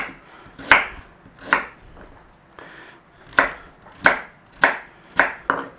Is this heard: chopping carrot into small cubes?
yes